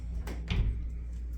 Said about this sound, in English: Sliding barn door on the bathroom.